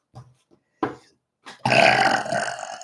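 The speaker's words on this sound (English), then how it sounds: "Spirit makes me burp for those of you who are unaware" A long, loud, rumbling burp bursts out close up after a few faint breathy sounds, during a live psychic reading stream.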